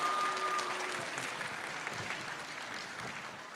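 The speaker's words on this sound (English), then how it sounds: "You should all just give yourselves a round of applause." Audience applause at the Dublin Comic Con summer event, a sustained wash of clapping from a crowd, moderately distant and gradually thinning toward the end, with no talking over it.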